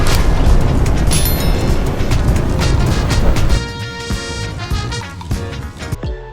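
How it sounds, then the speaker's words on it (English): An old television set blows apart in slow motion, a loud, dense explosive roar with crackling debris that drops to a quieter rumble with ringing, tonal tails partway through. "You think that TV explosion was good one?"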